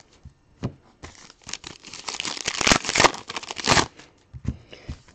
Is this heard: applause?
no